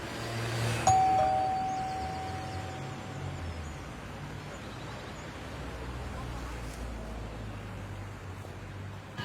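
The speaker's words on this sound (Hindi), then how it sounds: "घंटी बजा के देख लेते हैं" One electronic doorbell tone rings at a house door, a single clear chime that holds for a couple of seconds and then fades under steady outdoor background noise, with no voices during it.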